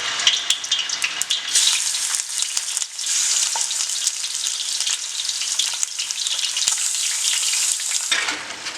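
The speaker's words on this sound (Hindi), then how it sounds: "अब इसके अंदर हम ये चिकन को लगभग 8 से 10 मिनट बढ़िया फ्राई कर लेंगे।" Chicken pieces fry in hot ghee in a pan, giving a bright, steady sizzle with crackling pops and occasional stirring scrapes, close and continuous with no voices.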